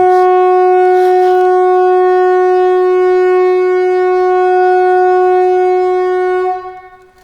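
An air raid siren holds a loud, steady wailing tone for several seconds, then winds down and fades out at the end.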